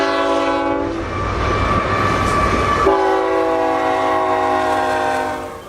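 A G scale model train horn imitating a BNSF freight train sounds a loud, sustained multi-tone chord, with a brief shift in the middle before holding steady again, close and without any talking.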